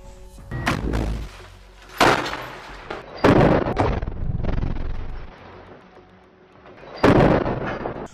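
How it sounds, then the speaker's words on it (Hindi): Several heavy booming blasts of rocket fire and gunfire in a firefight between Hamas fighters and an IDF tank in Rafah, Gaza, spaced a few seconds apart, each followed by a rolling echo fading out. "आईडीएफ और हमास के बीच ताबड़तोड़ गोलीबारी शुरू हो जाती है"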